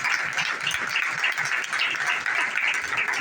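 A church congregation at a Palm Sunday service breaks into dense, sustained applause, many hands clapping steadily together throughout.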